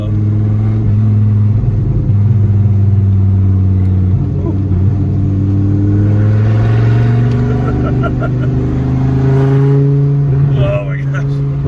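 A 1993 Dodge Viper RT/10 engine rumbles loudly, close up, its pitch rising and falling as it accelerates through curves, with a voice talking over the engine noise.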